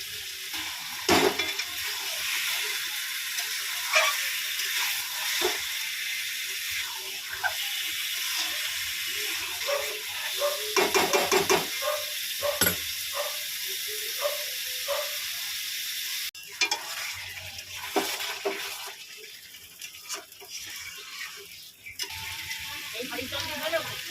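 Washed mutton pieces and chopped tomato sauté in a pan, giving a steady sizzle broken by repeated scraping stirs and clinks of a spoon, with some quiet talk at moments.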